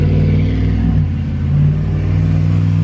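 Nissan 350Z with a naturally aspirated engine, loud and close, a deep steady rumble that dips briefly and then builds as the revs rise again.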